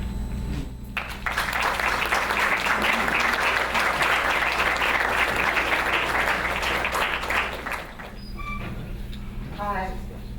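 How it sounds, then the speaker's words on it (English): An audience applauds John Akomfrah's film The Stuart Hall Project, a dense, loud burst of clapping that swells quickly, holds for several seconds, then thins out into quieter room sounds. "just another round of applause, I think, for the film by Mr. Akomfrah"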